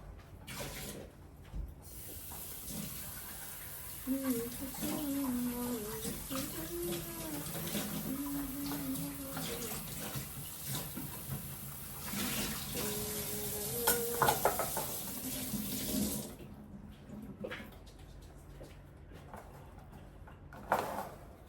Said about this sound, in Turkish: Şimdi sulu yıkayacağım.